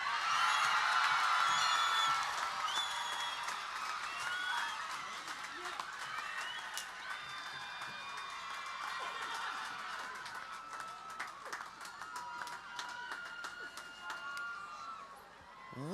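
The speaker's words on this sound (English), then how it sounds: "We promised her she'd get the biggest applause." A large crowd applauds a graduate at the PCHS Class of 2024 high school graduation ceremony, with dense, steady clapping, brief whoops and scattered voices that slowly thin out toward the end.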